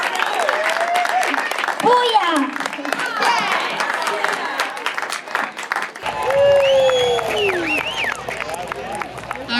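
A crowd applauds and cheers steadily, with shouts and excited voices rising over the clapping throughout.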